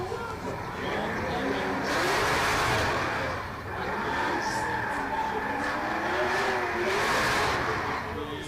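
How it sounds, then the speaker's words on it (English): BMW drift cars race at a drift championship in Oman, engines roaring and revving continuously with tyre squeal over a steady, loud mechanical drone; the moment of contact is not distinct. "Oh, contact! Cherba makes contact with Skageras"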